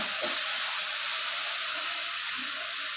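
Washed dried shrimp fry lightly in hot oil, producing a continuous soft hiss and sizzle that stays even and close throughout.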